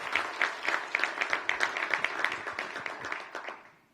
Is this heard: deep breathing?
no